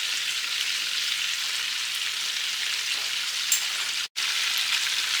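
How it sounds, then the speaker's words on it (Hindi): Ginger and garlic paste fry in melted butter over a low flame with a steady, close hiss and crackle, unbroken apart from one brief cut. "30 सेकंड के लिए अदरक को और लहसुन को फ्राई करेंगे, ताकि थोड़ा सा कच्चापन दूर हो जाए।"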